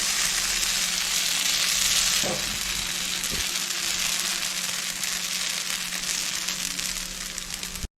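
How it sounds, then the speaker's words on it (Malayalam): Thin string parotta batter sizzles and fries steadily in an oiled pan, a continuous close hiss with a couple of soft taps, no talking. "ഇനി നമുക്ക് അതിലേക്ക് മാവ് ഒഴിച്ചു കൊടുക്കാം."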